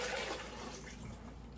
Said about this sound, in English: I'm just going to take our chicken soup and I'm going to pour it right into the pot.